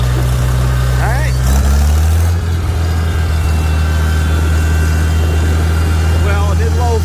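A Farmall 756 tractor engine runs steadily in low 4 direct drive, a loud, continuous low drone throughout, with brief voice fragments and clatter mixed in.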